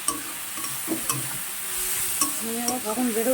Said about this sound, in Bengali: এবার এটাকে ভালো করে ভাজতে হবে